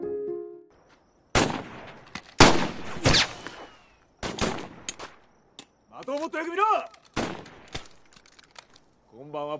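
Gunfire from an Iwo Jima war film as a soldier practises shooting: separate loud, sharp shots spaced irregularly over several seconds, with a voice heard briefly between them.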